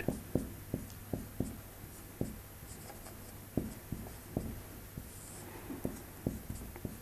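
Chalk or marker strokes on a board during a trigonometry lesson, a quiet series of short taps and scratches in an irregular rhythm, close to the microphone with no talking.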